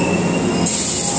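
Hankyu Takarazuka Line express train pulling into Nakayama-kannon station: a steady, close rumble of wheels on rail with a high metallic squeal throughout, loud and continuous.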